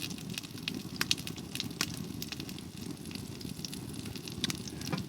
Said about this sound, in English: You've already seen I'm making a few sausages.